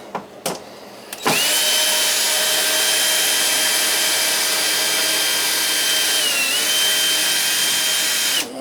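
A power drill runs at a loud, steady whine for several seconds while backing screws out of a gas boiler during disassembly, after a few brief clicks and short bursts at the start.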